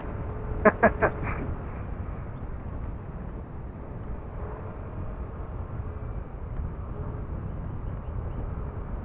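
At night on the Old Zigzag Road in Atimonan, Quezon, a bird gives a quick burst of three or four harsh, quacking calls early on, then only a low rumbling background remains.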